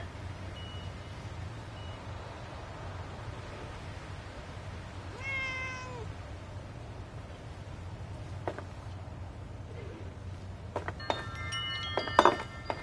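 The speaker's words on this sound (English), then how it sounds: "I definitely don't want to shoot the cat." In Fallout 76, a single drawn-out cat meow rises mid-way through a steady low game ambience, followed later by scattered clicks and a burst of bright tones.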